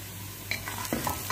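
Spice powders are stirred into an okra and potato dish in a pan, with soft scraping and a few light utensil clicks over a faint, steady sizzle.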